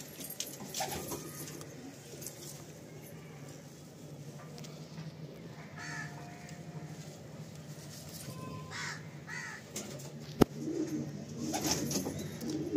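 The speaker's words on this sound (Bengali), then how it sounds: "প্রচুর পুরনো পায়রা।" Madrasi pigeons in a crowded loft coo and call steadily throughout, with a constant layered murmur of birds close by, a few sharper calls, and one brief metallic clink near the end.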